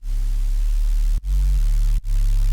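A synth sine-wave bass pushed through drive distortion, a loud sustained buzzing drone that cuts out sharply twice and shifts pitch slightly between notes, heard alone.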